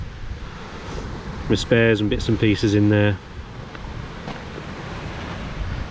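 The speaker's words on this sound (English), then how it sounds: "Sorry about the wind noise, it's so windy here." Strong outdoor wind buffets the microphone at a roadside brew stop on a cycling trip from Stone to Cosford, a constant low rumble running the whole time, with someone talking over it partway through.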